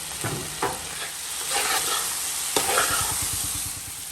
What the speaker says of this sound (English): We're just gonna allow this to fry for about 2 minutes or so before we add any of the liquid.